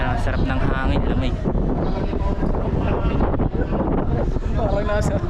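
Strong wind buffeting the microphone with loud rumbling gusts during a Yamaha motorcycle ride, while people talk over it throughout.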